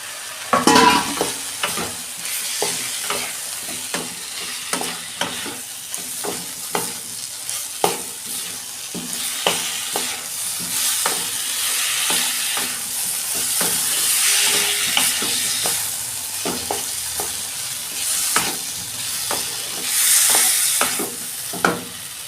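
Cauliflower, potato and eggplant stir-fried in spiced oil in a pan, a continuous loud sizzle broken by frequent scraping and clattering stirs of a spatula, close up.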